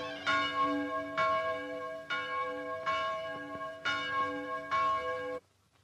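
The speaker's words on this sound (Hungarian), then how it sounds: "Vajon kinek csendít a harang?" A church bell tolls five slow, evenly spaced strokes about a second apart, each with a bright, lingering hum, loud and alone until the ringing cuts off.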